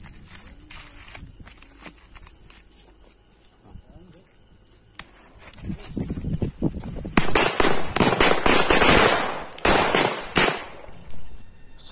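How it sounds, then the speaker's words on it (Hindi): Hulk 20 Deluxe firecracker lit and going off during Diwali cracker testing: a quiet hissing fuse and scattered crackles build into a loud, dense run of sharp bangs and crackling bursts over the last several seconds, with ambient insect chirping behind. "सो नेक्स्ट आता है हल्क वाला 20 डिलक्स, जो कि बहुत ही अमेजिंग टाइप का पटाखा है।"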